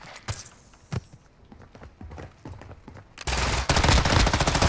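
Gunfire in the video game Call of Duty DMZ: scattered sharp shots at first, then a dense, loud burst of rapid automatic fire that carries on to the end.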